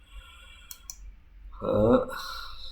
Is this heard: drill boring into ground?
no